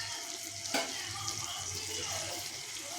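Diced potato pieces frying in rendered goat fat while being stirred with a spatula, a steady close sizzle with a sharp scrape near the start and soft clatter throughout.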